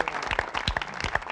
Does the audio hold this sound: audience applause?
yes